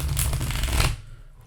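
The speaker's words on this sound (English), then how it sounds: "Here is shuffle number 3." A deck of tarot cards riffles in one quick, close shuffle lasting about a second, a dense papery flutter that ends abruptly into quiet room tone.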